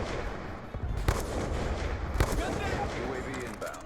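Ballista sniper rifle shots in Black Ops 2, two sharp cracks about a second apart, sit within a dense, busy game mix with music and effects.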